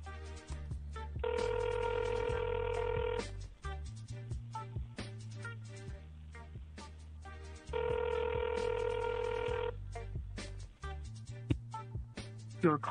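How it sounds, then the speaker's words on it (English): A telephone rings on a morning radio show, two long, loud electronic ring bursts separated by a pause, heard alone without talk. "A weird ring."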